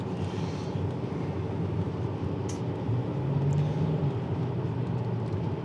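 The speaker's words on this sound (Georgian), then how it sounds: "ამას ნამდვილი 8 ცილინდრიანის ბენზინის ხმა აქვს" A BMW 740 E38 with a V8 diesel climbs a hill under heavy throttle, heard from inside as a steady low engine drone with a faint tonal whine near the end.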